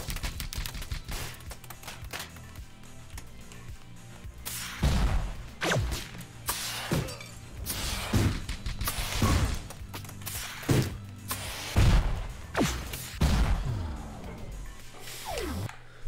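Loud gunfire in the video game Mega City Police: a string of sharp, booming shots with whooshing tails, fired irregularly over a steady electronic backdrop, no talking.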